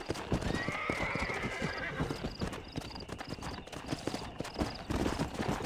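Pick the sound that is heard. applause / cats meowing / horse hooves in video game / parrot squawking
horse hooves in video game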